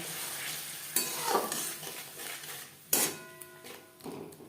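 Spices sautéed over low to medium flame for a rui fish curry with winter vegetables, a continuous sizzle with a spoon scraping and clinking against the pan, close and without speech.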